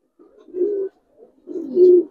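Giribaz and coloured pigeons coo in two soft, low rolling phrases close by, with a brief pause between them and no talk.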